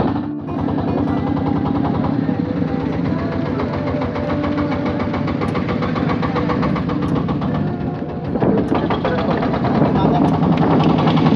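A loud, rattling boat engine starts and runs steadily close by, chugging continuously with a brief dip and surge near the end.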